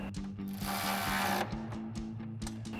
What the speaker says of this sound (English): Now we can go ahead and tighten this down with a 13 millimeter swivel socket on our ratchet.